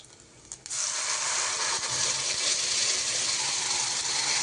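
Ground coconut paste is poured into a hot pan of fried ingredients for a traditional coconut thirattu pal sweet, giving a loud, steady broadband sizzle and hiss that rises sharply near the start and holds, with no talking.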